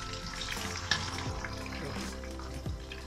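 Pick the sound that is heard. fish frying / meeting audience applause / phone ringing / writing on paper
fish frying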